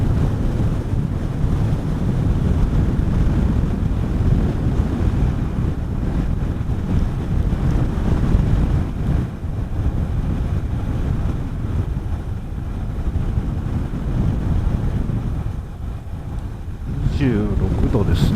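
Steady, heavy wind roar buffets the microphone of a motorcycle riding along the Hida Seseragi Kaido mountain road, with the engine buried beneath the rushing air from start to finish.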